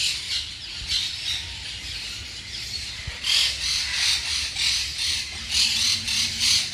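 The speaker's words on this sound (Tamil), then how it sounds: "இதுக்குள்ள ஒரு 6-7 மயில் கூட இருக்குது." Several peacocks in a bird park at Hambantota give harsh, loud squawking calls in repeated bursts, some overlapping, close by with little else around them.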